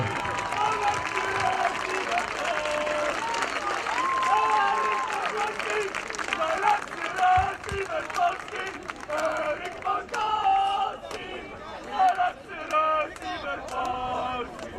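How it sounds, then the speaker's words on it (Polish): Crowd applause and cheering at an American football game between Lowlanders Białystok and Zagłębie Steelers, honouring a touchdown by number 15; steady clapping and crowd noise under a stadium announcer's voice, with bursts of cheering toward the end. "Jeszcze raz wielkie brawa dla zawodnika z numerem 15."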